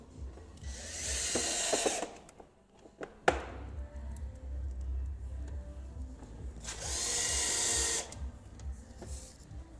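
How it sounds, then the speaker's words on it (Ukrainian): A power screwdriver drives screws while an electric scooter is being assembled, two short bursts of whirring separated by a few knocks and handling clatter, fairly quiet and close. "Беремо шурупи і фіксуємо з обидвох сторін, щоб він вже стояв чітко."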